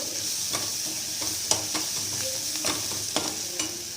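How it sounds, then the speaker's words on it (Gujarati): Turmeric stirred into a sizzling dosa filling in a hot pan, steady frying hiss with repeated spoon scrapes and taps, close and alone. "અડધી ચમચી હળદર એડ કરીને આપણે બરાબર મિક્સ કરીશું"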